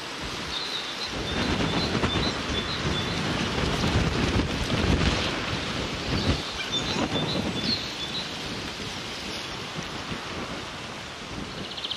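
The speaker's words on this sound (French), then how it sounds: "Le vent se lève sérieusement." Wind rising and gusting across a carp fishing lake, a steady rushing roar with low buffeting on the microphone that swells and eases for about twelve seconds, with no voices.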